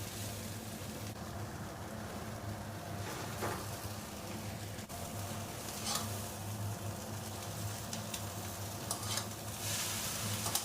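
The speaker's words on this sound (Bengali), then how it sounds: "সবজির সাথে ম্যাগিটা এবার মিশিয়ে নেব" Maggi noodles being stirred into fried vegetables in a pan, with a steady low sizzle and soft scraping strokes running throughout, fairly quiet and even, with no voices.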